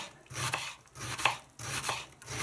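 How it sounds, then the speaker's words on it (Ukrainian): A knife chops an onion rhythmically on a cutting board, several sharp close strikes in quick bursts with brief pauses, no voices. "ви вже вирішуєте самі, як ви наріжете цибулю"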